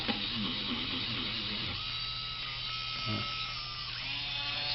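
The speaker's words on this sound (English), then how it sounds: "My trusty Dremel." A Dremel rotary tool whines with a steady high-pitched motor buzz, running close, used while working on a VW distributor, with brief changes in load.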